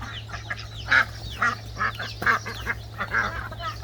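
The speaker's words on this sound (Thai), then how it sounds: "นี่ เป็ดอีเลียง" A Muscovy duck gives a series of hoarse, breathy quacks and hisses in uneven bursts, close by, with a low hum underneath.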